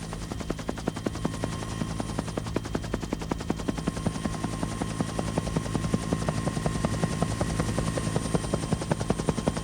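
A police helicopter flies overhead during a mid-1990s pursuit, its rotor beating in a loud, rapid, continuous chop with a steady engine whine, close and unbroken throughout.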